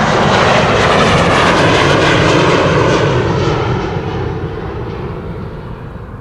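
A KLM airliner departing Amsterdam Schiphol roars loudly up close on its takeoff run, the engine noise holding strong before gradually fading as it climbs away.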